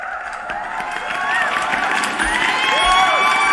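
Crowd cheers and clapping sound effect on a livestream, bright whoops and shouts over a busy wash of applause that grows slightly louder.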